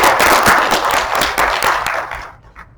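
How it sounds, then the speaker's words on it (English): Dense, loud applause from a close audience at a Texas High Plains writers' gathering, rapid overlapping claps that hold steady before fading out toward the end, with no voices. "So please give her a very warm Texas High Plains round of applause."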